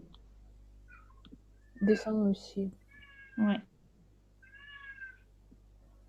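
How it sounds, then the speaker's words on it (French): A small house cat meows several times from behind a closed door, the calls muffled and fairly faint, with a quiet voice speaking French in between. "Oh, c'est votre petit chat?"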